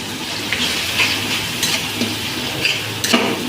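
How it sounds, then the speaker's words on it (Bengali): Garlic paste and onion paste fry for prawn malai curry, a soft, close sizzle broken by a few light spatula scrapes and clinks. "এবার দিয়ে দেবো পেঁয়াজ বাটা"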